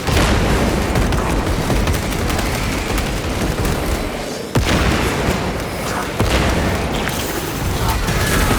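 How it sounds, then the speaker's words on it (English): Heavy explosions and rapid gunfire roar almost without pause in a battle against Tyranids in a video game, with a concussion grenade going off amid loud booms and a couple of sharp breaks in the din. "Concussion grenade deployed."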